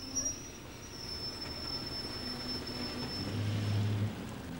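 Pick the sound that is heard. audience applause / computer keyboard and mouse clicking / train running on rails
train running on rails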